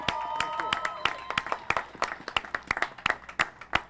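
A small crowd at a Houston mayoral Touchdown Tour event claps for Rick Campos, with scattered individual claps in an uneven rhythm that builds slightly over a few seconds, fairly close and moderately loud.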